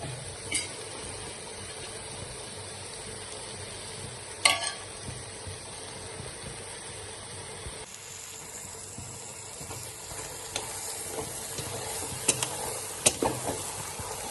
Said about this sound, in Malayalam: ചിക്കനെ എല്ലാം കൂടി നല്ലതുപോലെ മിക്സ് ചെയ്യണം